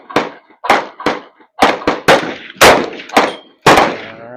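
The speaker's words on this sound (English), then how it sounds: "I'm gonna shoot the last one." Eight loud gunshots at an outdoor shooting range, each a sharp close crack with a brief ringing decay, fired at uneven intervals about half a second apart, with no talk.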